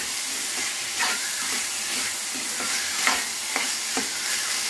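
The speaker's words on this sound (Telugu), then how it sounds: "కడిగి పెట్టుకున్న చింతకూర పచ్చిపోయే వరకు మనం లో ఫ్లేమ్లో పెట్టుకుని" Washed tamarind leaves fry on a low flame, giving a steady close sizzle with occasional stirring scrapes and soft clicks through the pan noise.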